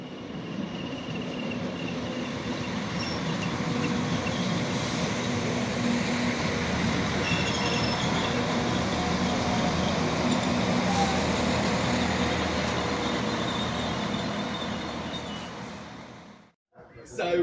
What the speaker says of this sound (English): I'm going to wait to see the next train coming on the opposite platform